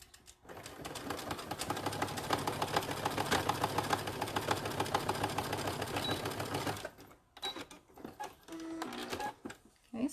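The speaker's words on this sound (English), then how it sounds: "So now I'm going to go and sew the lining pieces, the black fabric." A sewing machine runs steadily while stitching black lining fabric for a zipper pouch, holding one long, loud, even burst for about seven seconds before stopping, followed by a few faint handling clicks.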